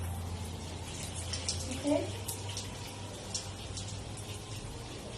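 Tap water runs steadily while hair is being washed, a soft continuous splashing and hiss under a brief spoken word.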